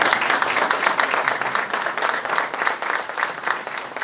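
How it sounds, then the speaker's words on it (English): Steady, full applause from an audience at a school dedication ceremony, with many hands clapping at close range and individual claps standing out throughout. "Martin High School, round of applause."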